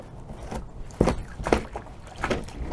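Several short scraping and knocking strokes as the wooden back of a brush pushes barnacles off a boat hull at the water line, with water sloshing faintly in the background; no voices.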